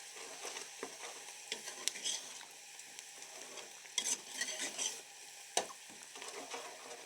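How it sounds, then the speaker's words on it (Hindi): Onions fry in a pan with garlic paste while the back of a spoon stirs and presses them, giving a faint, steady sizzle broken by soft scraping and clicking strokes. "इसको अच्छे से यहाँ पे चम्मच की उल्टी साइड से इसको मिक्स करेंगे"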